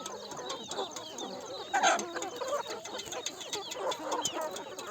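Country chickens clucking on a poultry farm, several birds close by with overlapping soft clucks and a louder burst of calls midway.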